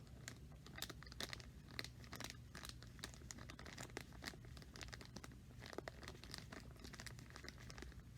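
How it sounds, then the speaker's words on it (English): A Ziploc plastic bag being sealed and squeezed to press out the air, with quiet continuous crinkling and rustling of the plastic and soft irregular crackles, close and faint, no talk. "As I close the Ziploc bag, I'm also trying to get all the air out."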